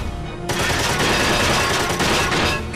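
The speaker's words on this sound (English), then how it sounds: "Rapid fire." Rapid gunfire in the video game Front Mission 4, a loud continuous dense stream of shots that starts abruptly and keeps a steady roar to the end.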